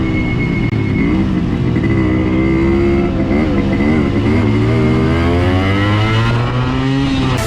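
A Yamaha RX100 motorcycle engine runs close up and loud, a continuous two-stroke drone whose pitch wavers and rises and falls with light throttle blips, alone without talk.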